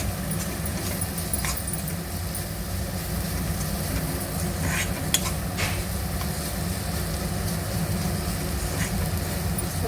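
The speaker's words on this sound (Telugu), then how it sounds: "మంచిగా ఎల్లిపాయ అంతా ఫ్రై కావాలి" Onion frying in a pan with a little sugar while cooking ridge gourd and fenugreek curry, a continuous soft sizzle with occasional light stirring clinks, steady and without talk.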